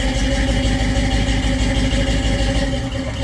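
A 1983 Chevrolet C10 pickup with a small-block 350 V8 idles steadily up close, a dense, continuous low rumble with a faint lift in tone near the end and no one talking.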